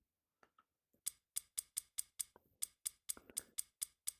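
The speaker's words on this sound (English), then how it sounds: "She wants me to do some more cutting out." Virtual scissors snipping through a squid in a VR dissection app: a steady, evenly spaced series of about a dozen sharp, crisp clicks, close and fairly quiet, with no talking.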